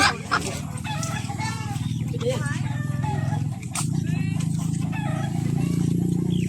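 Chickens clucking and squawking nearby, continuous through the clip, with people talking over the birds.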